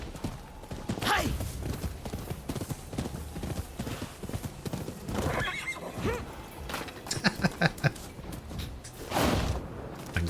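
Horse galloping in Rise of the Ronin, with clopping hoof beats, a neighing whinny and thuds scattered through a busy game soundscape, the hoof sounds rhythmic but mixed with other effects.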